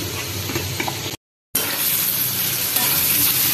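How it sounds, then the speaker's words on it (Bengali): Bitter gourd sizzles steadily as it fries in a pan, a continuous broadband hiss with faint scraping, briefly cut by a short silent gap before resuming just as loud. "এটা উচ্ছে ভাজা হয়ে গেছে"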